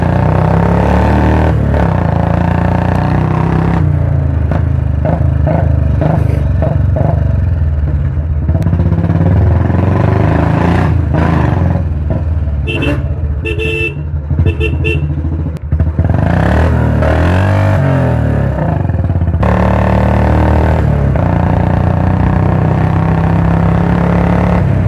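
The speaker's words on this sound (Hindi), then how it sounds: "हमारी बाइक ही बहुत ज़्यादा लाउड है।" A loud Royal Enfield Bullet motorcycle engine running close, with a constant heavy thumping idle and throttle blips that rise and fall throughout, no talk.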